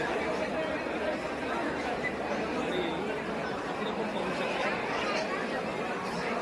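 Dense, continuous babble of a large crowd gathered at the Beed railway station inauguration, many voices blending into a steady hubbub close by.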